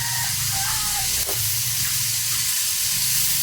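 Food sautés in hot oil in a home kitchen, a steady, loud, close hissing sizzle that fills the whole moment without pause.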